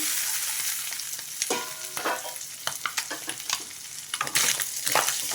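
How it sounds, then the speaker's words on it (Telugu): Mutton spleen frying in oil in a pan, a steady close sizzle with scattered crackles and occasional stirring scrapes, no talk. "తిల్లి ఆయిల్లో బాగా వేగింది"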